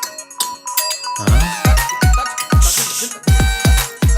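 A mobile phone ringtone plays loudly in a comedy scene from the Telugu film Kaliyuga Sutradari, a repeating electronic melody of sharp, punchy beats and bright tones pulsing rhythmically for several seconds with no voices over it.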